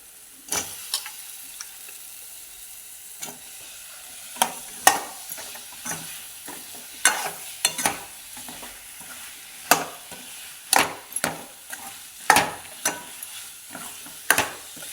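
Potatoes stir-fry in a pan for a village-style black masala potato dish: sharp, irregular spatula scrapes and taps over a soft, continuous sizzle, close by with no talk.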